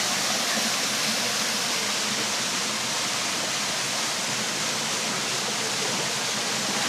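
Mayam Amboori waterfall in a forest roars as a steady, dense rush of falling water, loud and close, unbroken from start to finish with no voices.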